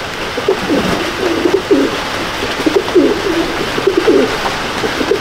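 A small female pigeon coos repeatedly inside a pigeon loft, a series of soft, low, rolling calls heard close over a constant background hiss.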